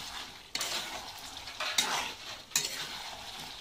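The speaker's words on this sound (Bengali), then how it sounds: "এই দেখো এবার আর একটু ভালো করে কষিয়ে নেব।" Chicken curry is stirred in a sizzling pan, three scraping strokes of a spatula over a continuous frying hiss, close and moderately loud.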